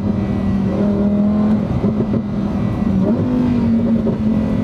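A 2021 Lamborghini Huracan EVO RWD engine holds a steady loud drone with a few sharp exhaust cracks and pops breaking through, close and unbroken throughout.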